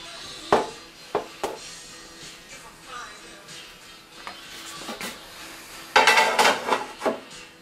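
A heavy cast iron pot is handled in a home kitchen while baking no-knead bread, giving sharp metallic clanks and knocks, with a louder cluster of scraping, clattering contact near the end.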